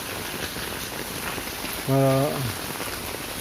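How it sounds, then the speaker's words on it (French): Rain falls in a steady, hissing patter that is easing off, heard evenly throughout, with a brief spoken word partway through. "La pluie qui se calme."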